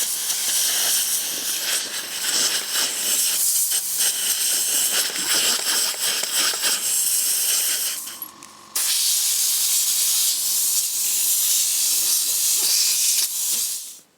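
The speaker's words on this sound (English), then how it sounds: "So I'm going to use some compressed air to get all the dust out of it." Compressed air blasts in a loud, steady hiss while dust is cleared from a large wooden barn door under construction, cutting out briefly mid-way before resuming just as strongly.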